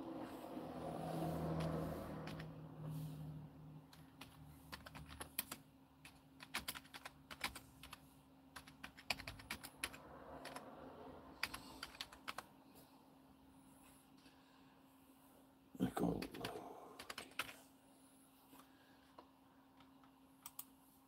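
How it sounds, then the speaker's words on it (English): Someone types on a computer keyboard: irregular, close clicks and key taps come in scattered bursts, with a denser flurry near the end over a low steady hum. "I'm over here typing one thing"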